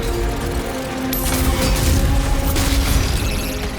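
In the video game DOOM: The Dark Ages, dense gunfire and heavy booming explosions pile up with mechanical clanks, loud and continuous with no pauses.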